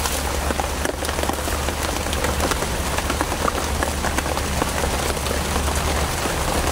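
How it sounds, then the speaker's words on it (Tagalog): Heavy rain pours down in a loud, dense, constant hiss, with drops drumming on surfaces throughout and no break in the downpour. "Malakas ng ulan, kaibigan."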